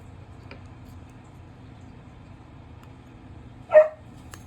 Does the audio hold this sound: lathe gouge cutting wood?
no